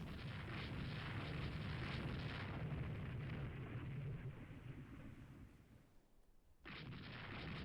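Torpedo explosions in a naval battle in the Rule the Waves 3 strategy game: a loud, sustained rumbling boom that fades into a low hush, then returns abruptly at full strength, with no talking.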